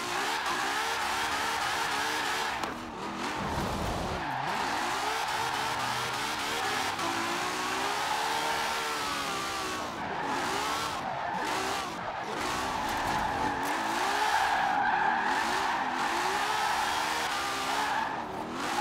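A stock 2017 Ferrari 812 Superfast with a V12 engine drifting in Forza Horizon 4, the engine revving high and steady while tires squeal almost continuously, with brief dips as the car shifts and slides.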